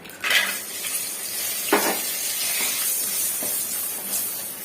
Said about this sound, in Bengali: বড়িগুলোকে ভেজে নেব।